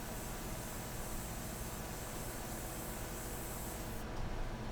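An airbrush sprays India ink onto a portrait in one steady, unbroken hiss, close and even throughout.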